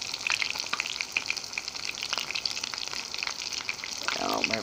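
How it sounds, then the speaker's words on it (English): Hamburger patties fry in a pan, a steady close crackling sizzle with dense popping spatters that runs throughout, with a brief voice near the end. "you just cook these hamburgers just like you would regular hamburgers"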